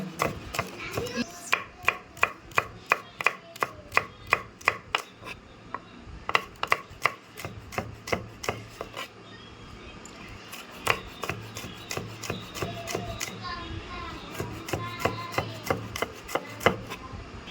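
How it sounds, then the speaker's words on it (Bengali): A knife chops through cabbage on a cutting board in quick, regular strokes, each a crisp close thud, in bursts with short pauses between runs. "পাতাকপি দেখাচ্ছি কাটাটাও দেখুন"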